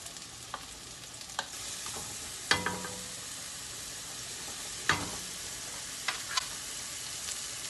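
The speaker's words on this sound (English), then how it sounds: "When I'm sauteing the onion and the mushroom, I want to add a little of the ginger." Onion and shiitake mushroom sauté in a pan, a steady close sizzle broken by several sharp scrapes and clinks of stirring, with no voices.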